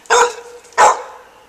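A dog barking in a yard gives two sharp, loud, close barks about half a second apart, each fading quickly into quiet.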